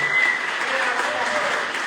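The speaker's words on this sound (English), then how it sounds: "can you guys now clap for all these amazing people that are dedicated to you?" An audience at a Bikram Yoga San Jose 20th anniversary celebration claps steadily, a dense, continuous wash of applause filling the room at an even level throughout.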